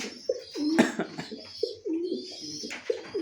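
Racing pigeons cooing at a pigeon farm during rain, several repeated nearby coos in a steady rhythm, with softer chirps and rustling between calls and no speech.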